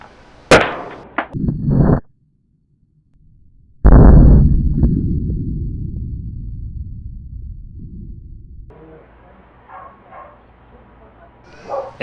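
A butane lighter left baking in the sun bursts with a sharp, loud bang, followed by a long fading rumble and hiss; a shorter popping burst comes just before, and quieter rustling sounds trail at the end.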